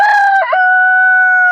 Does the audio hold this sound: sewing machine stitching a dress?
no